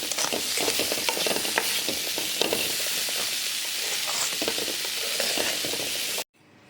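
Sundal stirred in a pan with a spoon, giving a steady run of scraping, clattering strokes over a soft sizzle that continues without pause and then cuts off abruptly near the end.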